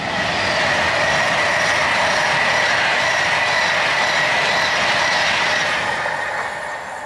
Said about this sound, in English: Well, 2 trains come at once.